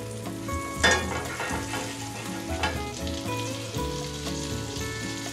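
Thick Texas toast slices frying in butter for a two-cheese grilled cheese, a close, steady sizzle with a few sharper pops and spatula clinks, no talk.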